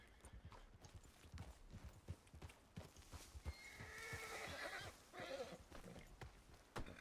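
A horse in the Red Dead Redemption 2 video game whinnies and snorts amid clip-clopping hooves, fairly faint and steady throughout, with a voice occasionally heard beneath.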